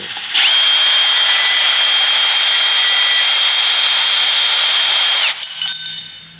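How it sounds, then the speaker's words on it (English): Bandsaw slicing through an RB26 cylinder head for an R32 GTR, a loud, steady high-pitched metallic whine holding for about five seconds before the blade stops and the motor winds down. "Bandsaw's the best thing I've found to cut this stuff with. It cuts it nice and quick and leaves no burrs."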